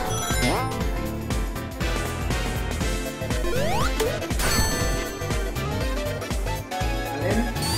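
Glass shattering in the Sonic Mania Plus platform game, with repeated crashes and smashes layered over busy, loud game music and effects throughout.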